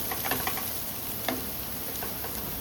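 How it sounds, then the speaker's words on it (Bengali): Soybean chunks fry in a pan and are stirred, giving a steady sizzle with sharp intermittent scrapes and clicks of the spatula, close and unaccompanied by speech. "ভালো করে নাড়িয়ে নিচ্ছি, এটাও কয়েক মিনিট এভাবে নাড়াচাড়া করবো"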